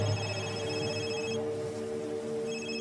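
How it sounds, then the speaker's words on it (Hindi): A mobile phone rings steadily on a stormy night, its repeating electronic tone sounding loud and continuous over low background rumble, briefly pausing midway before resuming. "उसी समय समीर का फोन बज पड़ा।"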